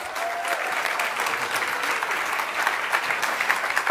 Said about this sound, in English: Round of applause for Dan Gregory.